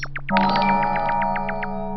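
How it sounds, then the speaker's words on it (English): Livestream subscriber notification chime, a bright rapid sequence of about a dozen bell-like pings over a sustained tonal chord, loud and alone for two seconds. "Subscriber notification."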